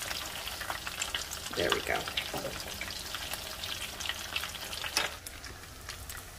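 Potato croquettes frying in a pan give a steady close sizzle with a few stirring and shifting bursts, while a voice briefly speaks.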